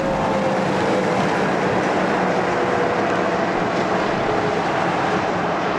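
A heavy Volvo road train truck rolls through an Outback intersection as a loud, steady roar of engine and rumbling wheels that holds for several seconds, close and without talk.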